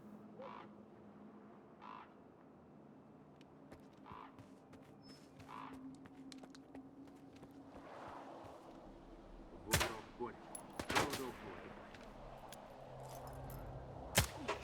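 Gunfire in the video game STALKER 2 during a shootout at Malachite: a few sharp, loud shots crack out late against quiet game ambience, with earlier faint scattered sounds.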